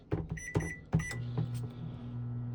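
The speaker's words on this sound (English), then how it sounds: "Microwave's working" A microwave oven in a 2003 Leisure Travel Freedom 2A wide-body camper van on a 2500 chassis: button beeps and a door clunk are followed by a steady, close low hum of the running microwave.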